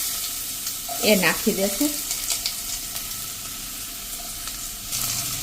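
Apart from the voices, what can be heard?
potato pieces sautéing in oil with mustard seeds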